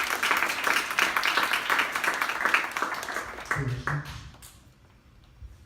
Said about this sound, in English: Great job. Round of applause.